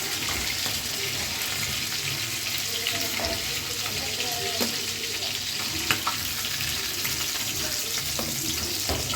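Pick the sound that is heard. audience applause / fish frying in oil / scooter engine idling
fish frying in oil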